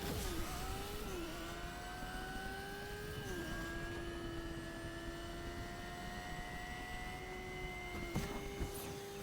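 A motorbike in the Fortnite video game runs with a sustained engine drone whose pitch climbs and shifts through gear changes, loud and continuous without speech.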